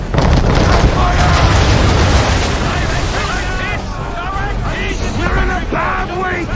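A ship fires cannon broadsides in the naval battle video game Assassin's Creed III, with heavy, rolling booms that merge into a continuous loud rumble while voices shout over it.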